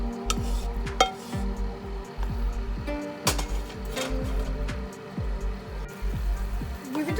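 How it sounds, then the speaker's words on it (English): Cooked orzo pasta stirred into a garlic butter sauce in a metal pan, with a spoon clinking and scraping repeatedly against the pan amid soft wet sizzling. "give it the quick stir"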